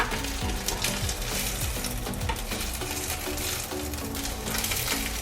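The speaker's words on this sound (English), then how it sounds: "I'm gonna grill rice balls" Rice balls grill in an oiled pan over medium heat, giving a steady, close sizzle with faint scraping and clinks of a utensil throughout.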